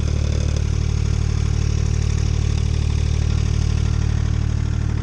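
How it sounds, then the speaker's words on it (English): A Takeuchi machine's engine idles steadily with a noisy muffler, a loud, close, continuous low rumble with a fast even throb and no talk. "This muffler makes noise here."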